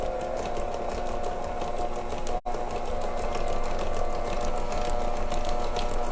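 An electric mixer whirs at a moderate speed, beating an egg into cake batter for sticky toffee pudding. The motor sound is steady and continuous, with one brief dropout partway through.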